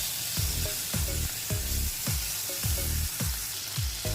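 Prawns fry in hot oil in a wok with a steady, loud sizzle, while repeated scraping stirs land about every half second across the whole stretch.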